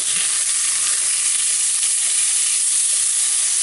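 Salmon fillets fry in a hot pan, giving a loud, steady, close sizzle with a bright hiss that runs unbroken and alone, with no voices.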